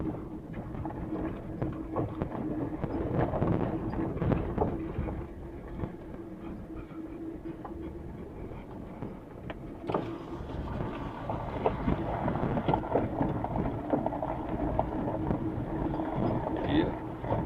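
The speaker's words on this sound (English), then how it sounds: "It's kind of rough, and I don't want to beat the old Jeep all to pieces" An old Jeep crawling slowly over a rough desert road near Quartzsite, Arizona: a continuous low rumbling drone with rattles and bumps throughout, steady and close.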